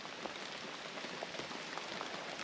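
A rain shower in Timor-Leste patters steadily on surfaces all around, a dense, even drumming of drops with no voices.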